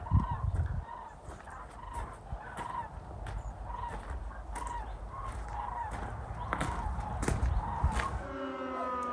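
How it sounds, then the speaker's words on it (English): Geese call overhead above an outdoor building plot, a series of rhythmic honks repeating every half second or so, faint and distant against a broad wind and ambient hiss, with no talking. "We've got the geese flying overhead."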